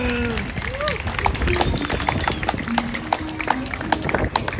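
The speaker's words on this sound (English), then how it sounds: "Go ahead, you can applaud for Kutsinhira." An audience applauds a marimba ensemble after a traditional Zimbabwean song, a steady patter of many hands clapping, moderately close, while people talk over it.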